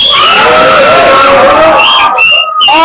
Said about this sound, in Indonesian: Teriakkan semua beban